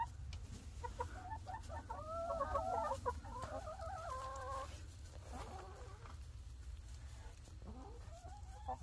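Chickens inside a coop with nesting boxes, roosts and a food dispenser, clucking and squawking in warbling, drawn-out calls close by over a low steady hum, a louder run of calls early and a rising call near the end.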